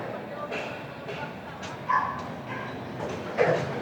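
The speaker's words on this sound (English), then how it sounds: "There's a barking dog somewhere here." Faint, distant dog barks pop up a few times over a noisy background, with occasional soft voices nearby.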